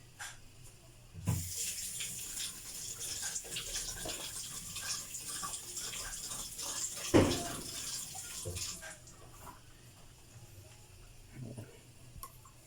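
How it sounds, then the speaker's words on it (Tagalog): Onions are washed in a sink under a running tap, giving a continuous close splash and gush of water with a few knocks and clinks of handling over about nine seconds. "Buyas. Hugasan mo natin ito."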